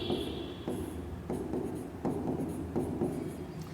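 Chalk or marker strokes on a classroom board during a trigonometry lesson, a steady series of short scratchy strokes in an even rhythm, close and moderately loud, with no talking over them.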